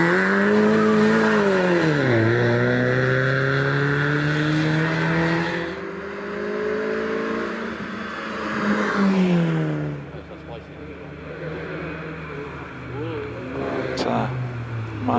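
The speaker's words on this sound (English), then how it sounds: "the colourful MX-5 of Lewis Porter makes its way up to Pardon" A Mazda MX-5 rally car climbs the Prescott hillclimb, its engine loud and close, rising and falling through gear changes, with commentary talking over it.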